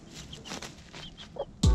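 Former battery-farm hens in a yard cluck in soft, scattered calls at moderate distance, followed by a sudden louder close thump or rustle at the end.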